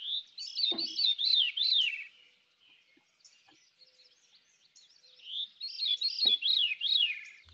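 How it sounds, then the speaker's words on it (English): A veery sings two clear phrases separated by a pause, each a fluting, two-toned spiral that winds downward in pitch, heard close and alone against a quiet background. "The song of the veery is a haunting two-toned descending spiral."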